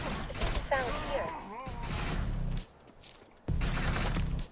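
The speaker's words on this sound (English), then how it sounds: "Whoop, being shot at." Gunfire in the shooter video game Defiance comes as rapid bursts of shots over dense game noise and brief whooshing effects, with a short lull before the firing resumes loudly.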